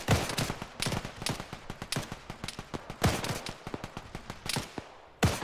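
Rifle volleys fired on command in the video game ARMA 3 crack out as a run of sharp, fairly close shots at irregular spacing, with heavier reports standing out from lighter ones.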